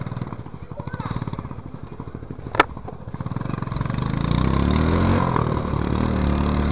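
A Win 110cc motorcycle engine idling nearby with a steady, fast putter, one sharp click partway through, then the engine note swelling and roughening as it is revved a little toward the end.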